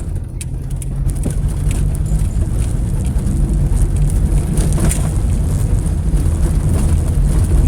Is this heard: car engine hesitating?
yes